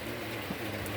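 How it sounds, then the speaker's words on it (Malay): Steady rain falls at night in Kulim, Malaysia, a dense even hiss filling the whole moment with no breaks or voices. "Kat Kulim ni hujan."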